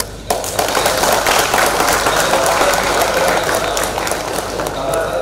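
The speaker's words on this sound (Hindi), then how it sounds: "मैं आप सबसे अनुरोध करता हूँ एक बार जोरदार तालियों से" An audience at a port project inauguration bursts into loud, sustained applause for a visiting shipping minister, dense clapping that starts abruptly and carries on steadily with crowd noise.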